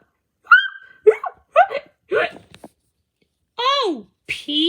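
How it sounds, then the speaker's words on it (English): Several short, close hiccups come in an irregular series, each a quick voiced catch, with a voice speaking between them. "Now you have the hiccups."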